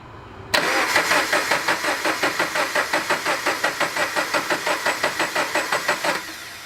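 A salvaged, flood-damaged Subaru BRZ engine cranks over with a loud, steady rhythmic chug of starter pulses for several seconds, then cuts out without catching, heard up close and alone.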